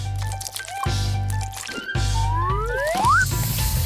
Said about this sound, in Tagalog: Dahan-dahang ibuhos ang batter ng pancakes sa kawali.